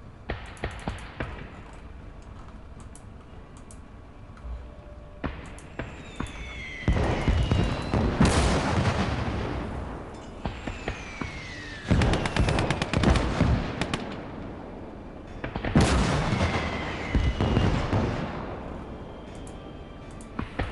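Mortar and artillery fire in a World War II German-front war video game: repeated loud booming blasts and crackling gunfire, several heavy rolling explosions spaced a few seconds apart over a steady battle din.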